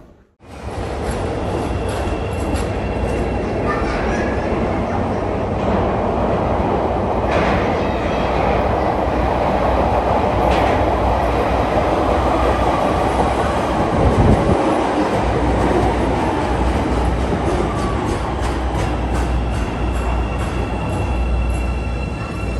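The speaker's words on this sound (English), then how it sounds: "so now we're just waiting for the Red Line train. I see it down there, and here we go." A Chicago CTA Red Line train pulls into a station with a loud, steady rumble of wheels and rails, faint squeals and clicks over it, heard up close for a long stretch with no talk.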